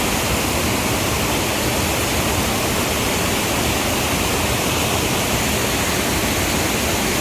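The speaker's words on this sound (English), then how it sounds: "this is the Arbirlot Falls, look at them." The Arbirlot Falls waterfall roars close by as a steady, dense rush of falling water, loud and unbroken from start to finish with no voices over it.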